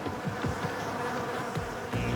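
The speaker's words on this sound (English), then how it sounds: "With the bees on loan from the apiary, Jamie carefully selects a contender" Honeybees from an apiary buzzing close by, a wavering drone with individual bees swooping nearer and farther, rising and falling in pitch.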